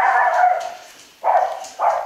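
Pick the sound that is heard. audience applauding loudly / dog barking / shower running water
dog barking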